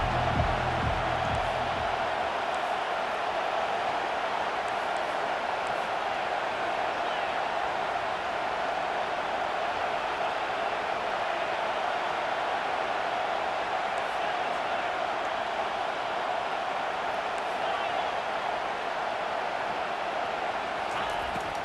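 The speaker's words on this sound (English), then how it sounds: "how nice is it to have the home crowd going absolutely bananas" Home crowd noise in the college football video game EA Sports College Football 25, a steady, loud roar of cheering that fills the stadium throughout without easing.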